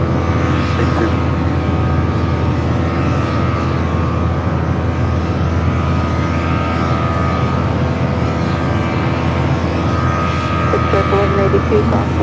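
Aircraft engines roaring steadily at Los Angeles LAX airport, a loud continuous drone with radio voices talking throughout.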